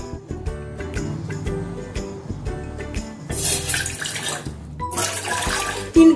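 Water poured into a pot for tea, a close, steady splashing and gurgling stream that swells and shifts in tone over several seconds, with no talking.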